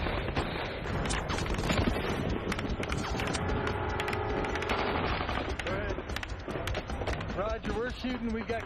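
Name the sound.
gunfire during a firefight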